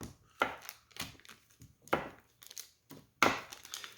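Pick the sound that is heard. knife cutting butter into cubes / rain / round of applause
knife cutting butter into cubes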